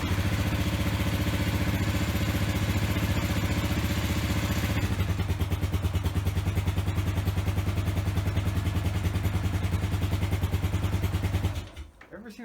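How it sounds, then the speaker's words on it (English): A cold Kawasaki KLR 650 motorcycle runs with the choke on, a steady single-cylinder thumping that holds near and loud, with a shift in tone partway through, then cuts out just before the end. "Ever seen a KLR start that good from cold?"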